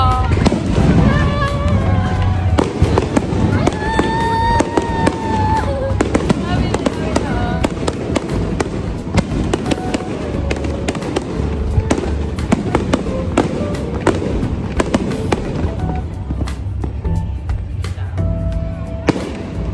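Fireworks crack and pop continuously at an anniversary celebration outside a restaurant, loud and close, with dense bursts and whistles overlapping throughout, and voices faintly underneath.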